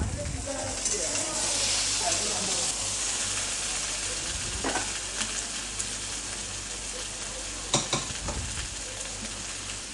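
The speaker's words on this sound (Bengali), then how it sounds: "এবার এতে দিয়ে দিচ্ছি ছোট ছোট করে কাটা টমেটো।" Small chopped tomatoes hit a hot frying pan for an aloo dum, setting off a loud, continuous sizzle and hiss up close with occasional stirring scrapes and no voices.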